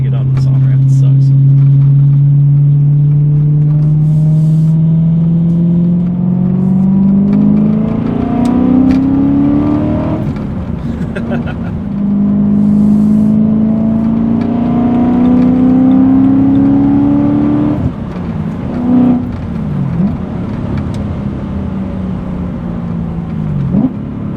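A car accelerating up a highway on-ramp, engine note climbing steadily through two long pulls with a shift between them, loud and close from inside, then easing off near the end.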